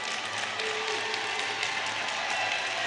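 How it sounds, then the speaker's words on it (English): Fans of the LaSalle-Peru Cavaliers clap steadily in a high school volleyball gym after a timeout, a dense wash of applause filling the hall at moderate volume with no voices standing out. "clapping with encouragement for their ladies"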